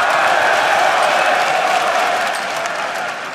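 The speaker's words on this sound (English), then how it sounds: "as the crowd is chanting Froggen" An esports arena crowd at a League of Legends EU LCS match roars in a dense, continuous wash of cheering and applause, loud throughout and easing slightly toward the end, with no distinct chant rhythm standing out.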